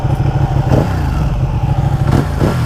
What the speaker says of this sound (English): Let's hear what the exhaust sounds like.